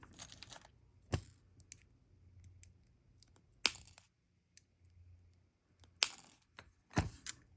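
Small wire cutters trimming the tail of earring wire during bead jewelry making, giving a few sharp, isolated snips spread apart, with faint handling rustle between them and no talking.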